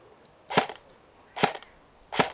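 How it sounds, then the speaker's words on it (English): Three sharp single shots from a DBOYS M4 CQB airsoft rifle, evenly spaced about a second apart, each a crisp snap with a short tail, close by with no talk. "we'll try this first single shot"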